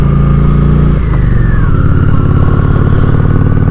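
A Honda Shadow ACE motorcycle engine rumbles loud and close while riding, its deep throb dropping in pitch after a brief rev, steady and continuous throughout.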